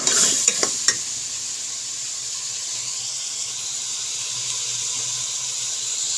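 Meat being fried in ghee and stirred in a pan for karela gosht, a few sharp clatters at the start, then a steady soft sizzle hiss with no voices.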